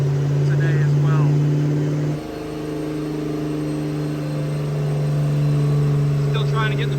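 Supercharged Saleen car engine idling and running on a dyno, a steady loud drone with strong low harmonics that drops briefly then holds, with faint voices in the background.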